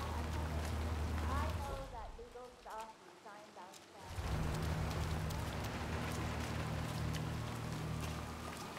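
Steady hissing rain in a video game, heavy and continuous, briefly dropping out in the middle before returning, with voices talking over it.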